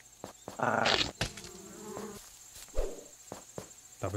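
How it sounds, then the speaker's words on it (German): A bee buzzes in the block-building game Adventure Craft, a steady insect drone mixed with scattered clicks and game sounds, heard alone without speech. "Ich habe da gerade was gesehen, oder war das eine Biene?"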